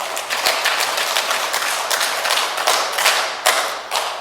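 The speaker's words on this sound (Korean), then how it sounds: "자 박수 준비. 야 박수 준비. 10번 시작." A church audience claps together in rhythm on cue, a crowded run of hand claps with a few sharper strikes standing out, fairly close and steady for several seconds.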